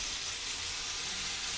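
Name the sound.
water added to frying bottle gourd, sizzling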